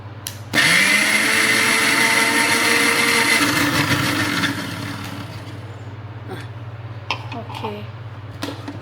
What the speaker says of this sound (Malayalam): തേങ്ങാപ്പാലിൽ മിക്സിയിലിട്ട് അടിക്കാൻ പോവാണ്.